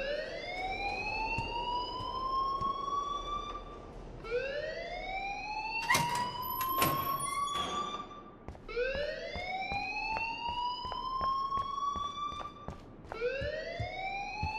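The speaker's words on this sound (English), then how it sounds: "please turn off that alarm" Fire alarm blaring in the video game Life Is Strange, a loud rising siren whoop repeating about every two and a half seconds, with a burst of sharp electronic beeps midway and steady indoor ambience beneath.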